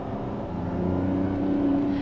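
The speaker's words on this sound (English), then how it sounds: "You hit the gas pedal in this car and the visceral sound that occurs behind you is just," A Lamborghini Revuelto's engine revs under throttle, a steady, close, rising mechanical drone with a growing tone toward the end, heard alone without talk.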